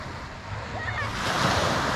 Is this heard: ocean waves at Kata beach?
yes